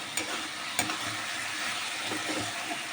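Cauliflower florets stir-fried in a pan for a special home-style dish, giving a steady broadband sizzle with a couple of sharp scraping stirs near the start, close and fairly quiet, with no voices.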